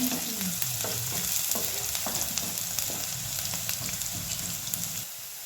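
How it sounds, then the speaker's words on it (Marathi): Chopped onion frying in hot oil in a home kitchen, a steady close sizzle and crackle with occasional stirring scrapes, dying down slightly near the end. "आता तेल तेल चांगला भाजूया कांदा"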